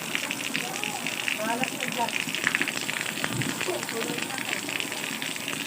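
Steady rain pours onto a tarp outdoors in Antipolo City, a dense, even hiss of drops drumming close by throughout, while people talk over it.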